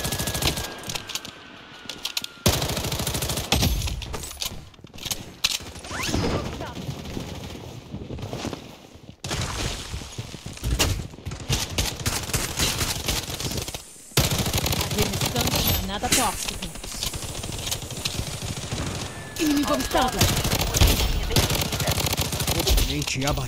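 AK-47 fire in the shooter Blood Strike during a ranked match, repeated loud bursts of automatic rifle shots with short pauses between volleys, plus in-game voice callouts.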